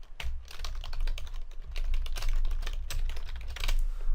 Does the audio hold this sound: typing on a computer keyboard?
yes